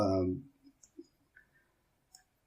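A computer mouse clicks in the AWS CloudFormation template designer. A brief bit of speech comes first, then a few soft, sparse clicks in a quiet room.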